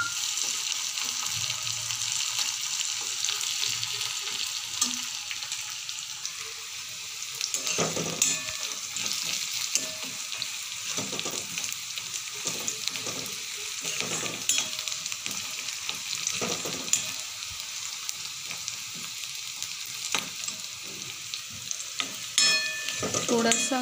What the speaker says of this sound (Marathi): कांद्याचा कलर थोडासा लालसर येईपर्यंत आपल्याला त्याला हलवत राहायचं।